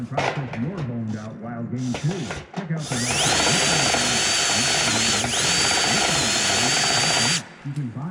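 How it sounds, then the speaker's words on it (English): A step drill bit bores through material in a dim workshop, its loud steady whine grinding for several seconds before cutting off, preceded by short bursts and someone talking over the start. "this is a step drill bit"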